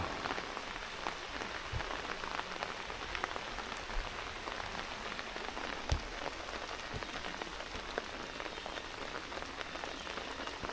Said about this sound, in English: But if it's continuing to rain,